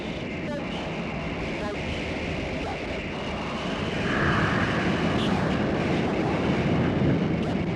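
Red Arrows jets roar past during a sharp 7G Vixen break, a heavy, continuous engine rumble and rush that swells louder partway through, heard from nearby on board.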